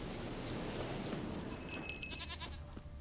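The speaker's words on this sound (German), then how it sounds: "Komm her, Ziege." A goat in the video game The Witcher 3 lets out a short, fairly faint bleat over continuous rustling ambient game sound.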